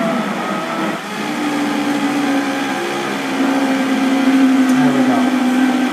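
A Vitamix blender grinds ice chunks with a steady, loud motor whine that rises in pitch as the blades catch, while someone talks over it.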